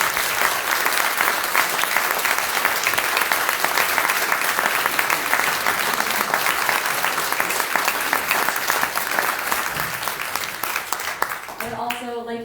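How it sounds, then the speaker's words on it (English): An audience at a Courtenay all-candidates forum hosted by nursing students applauds the candidates, a steady, dense round of clapping filling the room for about eleven seconds before it tapers off and a voice starts speaking. "I'm going to ask that everybody give our candidates a round of applause"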